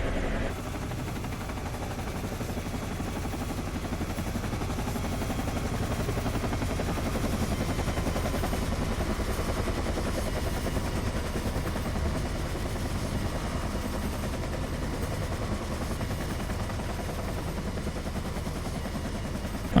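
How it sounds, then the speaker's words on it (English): Steady, heavy UH-1 Huey helicopter rotor and engine roar in a flight simulator flyby fills the whole stretch, a continuous thumping drone at constant loudness with no voices. "so you can hear and see the helicopter in all her glory"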